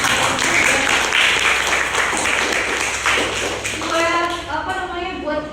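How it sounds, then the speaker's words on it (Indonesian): A class claps together in a burst of applause that thins out toward the end, with voices heard among the clapping. "Jadi tepuk tangan dulu deh buat kalian semua"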